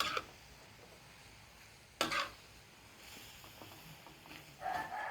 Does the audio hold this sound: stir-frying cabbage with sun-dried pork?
yes